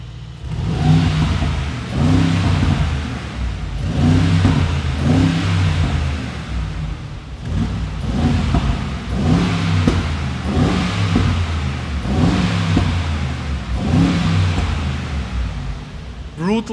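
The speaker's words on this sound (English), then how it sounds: "So now it's time to listen to the sound of the G63 4x4 square from the" A 2024 Mercedes-AMG G63 4x4² engine revs heard from outside, its deep burbling note swelling in repeated throttle blips roughly every two seconds, close and steady.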